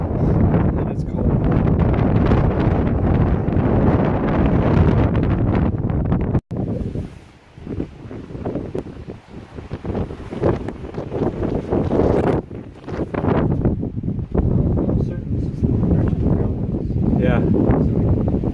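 Strong, gusting wind buffets the microphone on an exposed Vermont hilltop near a tower, a loud continuous roar that briefly drops out and then surges back.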